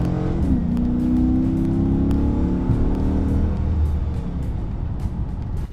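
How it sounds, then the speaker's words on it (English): A powerful 370-horsepower Dodge Charger Pursuit police car engine revs and accelerates with a deep, rising roar, loud and close, then settles into a sustained rumble. "with the squeeze of that throttle, you wake up those 370 horsepower"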